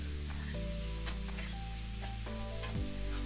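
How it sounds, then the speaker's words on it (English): Chopped onion sizzles steadily in hot oil, a dense close hiss that runs throughout the clip with a few stirring knocks, under a constant hum. "Once the oil gets heated, I'm gonna add chopped onion, giving a good stir"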